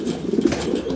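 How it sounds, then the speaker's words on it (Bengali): Fancy stretcher pigeons coo in a low, throaty, continuous murmur close by, with soft rustling beneath. "এখানে চমৎকার আরও এক জোড়া কবুতর, স্ট্রেচার কবুতর"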